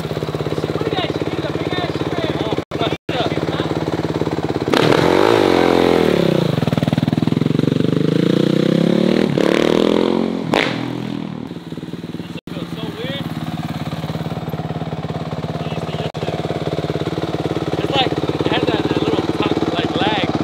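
A small engine runs loudly throughout, revving up and down with rising and falling pitch, while people talk over it.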